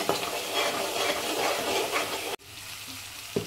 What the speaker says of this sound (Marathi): 1 टेबलस्पून हळद, अजून थोडीशी हळद घेऊया आणि असं परतून घेऊया व्यवस्थित